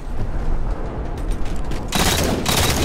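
Boltshot gunfire in Halo 4 Capture the Flag, a loud dense rattle of rapid shots and booms that swells into a harsher, brighter burst near the end, with no talking.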